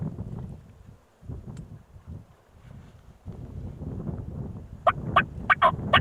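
Several Merriam's wild turkeys gobble in quick bursts near the end, fairly close, after a stretch of wind noise and rustling in the open outdoors.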